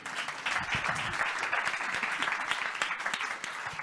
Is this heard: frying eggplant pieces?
no